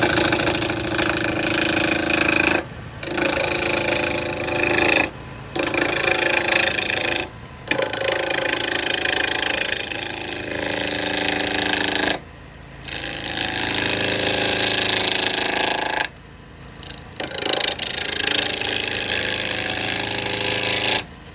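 Woodturning lathe shaping the outside of a yew bowl: a continuous loud whirring, scraping drone with several brief drops where the tool lifts off, close and steady.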